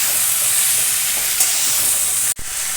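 Vegetables fry lightly in a pan for a pui shak dish with hilsa fish head, giving a steady, close hiss and sizzle that cuts off briefly near the end before resuming.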